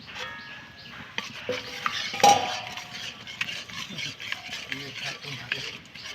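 Two chopped capsicums are stirred into a cooked gram flour mixture in a pan, with a spoon clinking and scraping against the metal over a soft, low sizzle.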